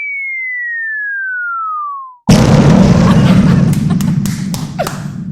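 A long missile sound effect on a podcast: a falling whistle that slides downward for about two seconds, then a loud, sustained explosive rumble with sharp crackles trailing off.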